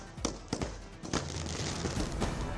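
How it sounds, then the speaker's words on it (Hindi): Fireworks going off at a public celebration of an astronaut's safe return, heard as a series of sharp irregular bangs and pops at moderate distance over a dense crackling background. "आतिशबाजी कर लोगों ने जश्न मनाया।"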